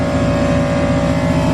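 An all-wheel-drive Honda CRX engine roars loudly and steadily through a dyno pull, a dense, buzzing high-revving tone with a strong harmonic drone and no other sounds competing.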